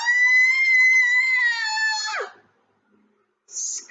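A girl's long, sustained, high-pitched scream in a read-aloud children's story about a girl and monsters. The scream is loud and steady for about two seconds, then cracks and drops off abruptly, with silence and a short faint high sound afterward.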